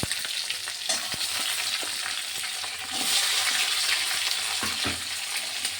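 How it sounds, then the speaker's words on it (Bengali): Capsicum sizzles steadily while frying in a pan, with scraping spatula strokes stirring it and intermittent clinks against the pan, close and continuous without talk. "ক্যাপসিকামটা একটু নাড়বো, একটু নরমও হবে।"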